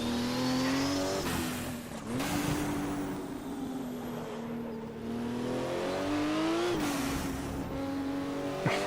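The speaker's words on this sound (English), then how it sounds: "the noise on the off throttle when you have that dumping through the wastegate of all that boost pressure" Group 5 race car in Automobilista, engine note rising and falling in low gear with throttle lifts, turbo boost dumping through the wastegate and blow-off valve in hissing bursts near 2 s and 7 s, loud and close.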